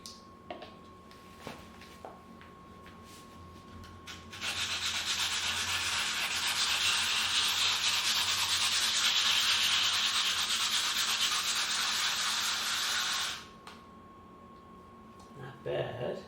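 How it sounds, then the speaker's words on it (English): A grinder passes lightly over a repaired patch of terrazzo floor, a loud steady abrasive whir that starts, holds for about nine seconds, then stops, with quieter handling noises before and after. "just go over it very quickly with the grinder again"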